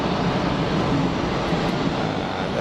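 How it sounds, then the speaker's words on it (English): A Pilatus PC-12 NG turboprop taxies outbound at Geneva Airport, giving a steady, even broadband engine rumble and hiss that holds at constant level without rising or fading. "Pilatus PC12 Next Gen taxiing outbound"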